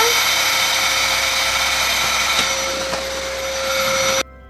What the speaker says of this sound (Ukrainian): Так, діти, це пилосос.